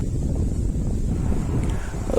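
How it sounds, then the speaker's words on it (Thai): Strong wind sweeps across the open ground in front of Lam Takhong dam, a steady, dense roar buffeting the microphone throughout with no pauses and no voices. "ลมแรงมากครับ"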